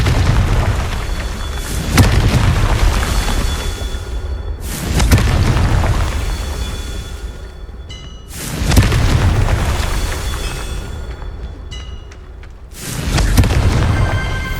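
Confringo fire-blast spell explosions in the Hogwarts Legacy video game, four loud booming bursts spaced a few seconds apart, each followed by a rumbling decay.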